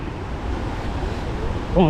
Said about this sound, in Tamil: அலைகள் எவ்வளோ ஆக்ரோஷமாக இருக்குது பாருங்க